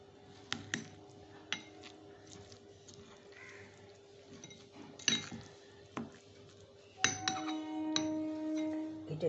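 A spoon clinks and taps against a bowl while milk powder is mixed in, with quiet, irregular knocks and scrapes and a brief louder rattle near the end.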